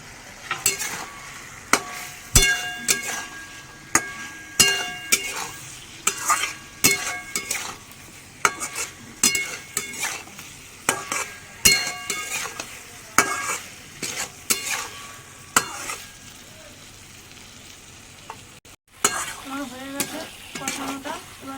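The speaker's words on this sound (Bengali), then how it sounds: "এই পটলগুলো এর মধ্যে ছেড়ে দিয়ে ভালো করে কষিয়ে নেবো" Pointed gourd (potol) sautéed with chicken in a pan, repeated scraping strokes of a spatula against the pan over a soft sizzle, close by, pausing briefly near the end before resuming.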